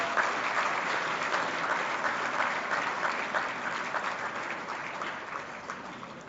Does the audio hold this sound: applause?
yes